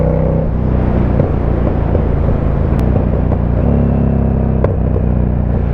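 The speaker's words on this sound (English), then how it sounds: "pop flames every time she backfires" KTM 1290 Super Duke R motorcycle ridden in early-morning Sydney traffic, its engine rumbling loudly and steadily up close with gear-shift pitch changes and a few brief sharp pops cutting through.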